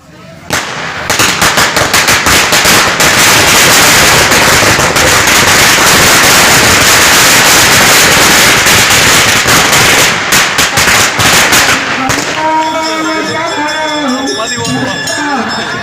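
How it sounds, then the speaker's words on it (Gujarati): Fireworks and firecrackers bursting outdoors during a night maha aarti festival at Jadeshwar Mahadev temple in Kheda, a loud, dense, continuous crackle for about twelve seconds before easing into quieter background sound. "સાથે અત્યારે બહાર આતશબાજી કાર્યક્રમ પણ યોજાઈ રહ્યો"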